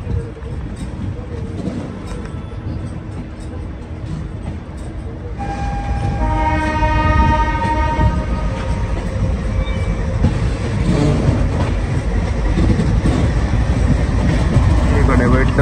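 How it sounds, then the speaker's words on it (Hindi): An Indian Railways train hauled by a WDM3 ALCO diesel locomotive of 3,100 horsepower on the Delhi–Punjab route rumbles past nearby. The heavy engine drone and clatter build louder, and a long multi-tone horn sounds midway. "ये बने भाई WDM3 है 3100 हॉर्स पावर के एल्को लोकोमोटिव"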